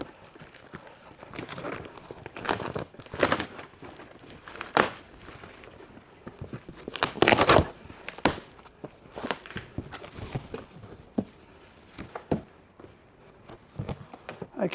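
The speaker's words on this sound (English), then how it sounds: "we've got some large foam packaging that we need to remove" Large foam packaging is pulled out of an electric tricycle's cardboard box, giving a series of scattered, close squeaks, scrapes and thumps of varying loudness.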